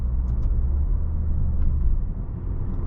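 A Maserati Grecale GT with a 2-liter twin-charged four-cylinder accelerating in sixth gear in comfort mode, heard as a steady deep cabin rumble with light road noise.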